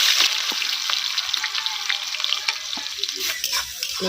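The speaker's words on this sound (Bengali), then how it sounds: "কড়াতে তেল দিয়ে দিয়েছে প্রথমে জিরে ফোড়ন দিচ্ছি এবার পরে পেঁয়াজ কুচি দিয়ে দিচ্ছি" Cumin seeds and chopped onion sizzle and spit in hot oil in a wok, a steady bright frying hiss running throughout with occasional sharper pops and crackles.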